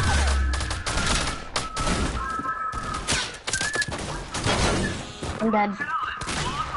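Rapid gunfire rattles through a battle royale video game in dense, overlapping bursts of sharp shots, loud and close, while a player talks over the shooting.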